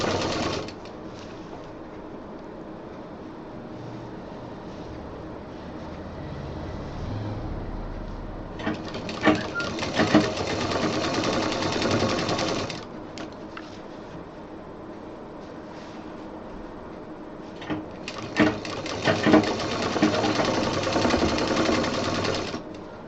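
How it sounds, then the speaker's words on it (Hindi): A sewing machine stitches a handbag seam along a chalk-marked fold, running in two loud bursts of about four seconds each, separated by quieter pauses where the fabric is handled. "इस तरह से सफाई के साथ इसको मोड़ के चौक से जो निशान लगा है उस पर पूरा सिल देंगे।"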